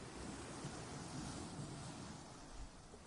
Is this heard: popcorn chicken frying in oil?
no